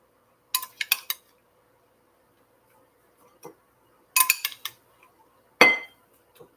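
Metal spoon clinking against a dish while scooping salad ingredients, a few short bright taps in two quick clusters plus one sharper scrape, close and quiet with silence between.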